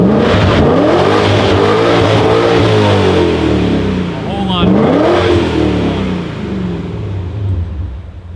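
A loud, raspy BMW E39 M5 exhaust with the mufflers deleted revs up and down repeatedly, close and rumbling, with deep throaty swells and no muffling.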